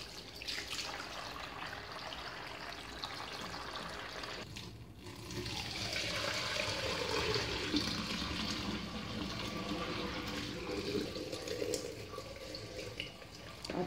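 Water running and splashing as peeled beans are rinsed and strained, a steady close pouring and gushing sound that continues throughout without any talking.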